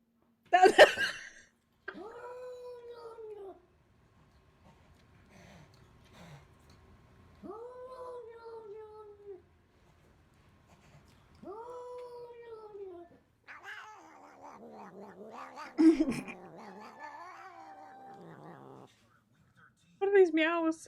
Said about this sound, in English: What are these meows?